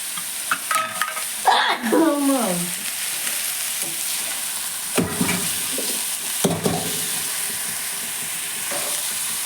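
Food sizzles steadily in a frying pan as a spoon scrapes and stirs it in occasional bursts, with a brief voice at the start and clinks of utensils on the pan.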